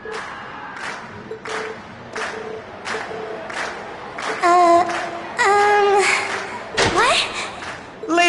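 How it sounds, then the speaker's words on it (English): A video game crowd at a class performance cheers and shouts in rising bursts, several loud waves of voices and excitement, near and energetic. "we've heard your cheers loud and clear"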